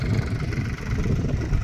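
A Mahindra 265 tractor engine runs with a low, steady diesel rumble nearby, alone without talk.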